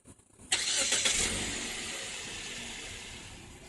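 A Jeep Patriot Latitude engine cranks and fires with a sharp catch, then settles into a steady, fairly loud idle that gradually eases off, with no talk over it.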